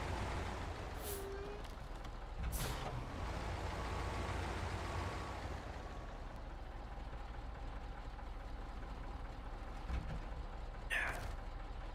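A heavy truck in Snowrunner rolls back with its handbrake on, its engine giving a faint, steady low rumble, broken by a few short hissing bursts like an air brake.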